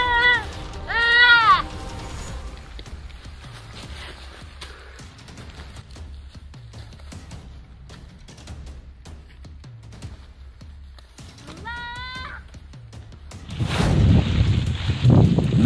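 A goat bleats loudly in two wavering cries, early and again near the end, while Komodo dragons attack it with their tails, with wind rumble and faint background noise between the calls.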